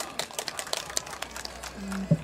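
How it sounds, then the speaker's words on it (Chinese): Brief applause from an outdoor audience at a carnival concert, scattered clapping fairly near, with a short vocal sound at the end. "掌声鼓励。"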